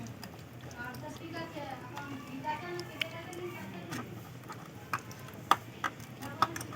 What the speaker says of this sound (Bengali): এবার খুব ভালো করে একটু ফেটিয়ে নেব এইভাবে